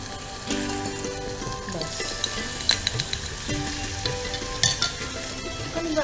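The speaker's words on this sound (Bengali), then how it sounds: "জাস্ট একটুখানি ভেজে নেবো।" Grated ingredients lightly frying in a pan for a vermicelli prawn dish give a steady, close sizzle broken by stirring scrapes and a few sharp utensil clinks, over a faint tonal background.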